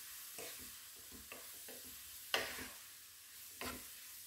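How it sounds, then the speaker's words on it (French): Grated carrots sautéing over medium heat in a pan, a soft low sizzle broken by several short scraping strokes of a utensil stirring them, one sharper clatter midway; quiet and close, without speech. "Et on va laisser rissoler comme ça pendant quelques minutes."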